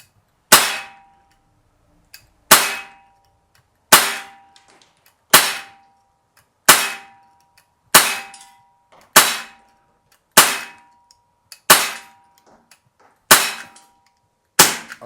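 A KWC 24/7 non-blowback CO2 BB pistol fires steel BBs at targets, ten sharp, loud, evenly spaced shots about one and a half seconds apart, each ending in a brief metallic ring.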